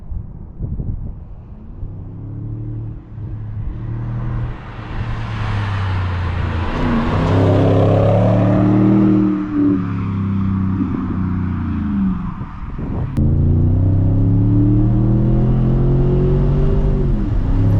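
The N62 V8 engine of a 2006 BMW 550i E60 revs hard and loud, its deep roar climbing and falling in long pulls, with wind buffeting the microphone throughout.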